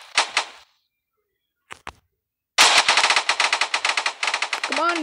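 Machine gun fire in the VMOD video game: a couple of short bursts, a pause, then a long, loud stream of rapid shots near the end.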